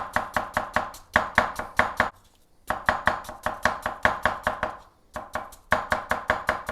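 Rapid, even knife chops through onion on a cutting board, close and crisp, come in quick runs separated by short pauses.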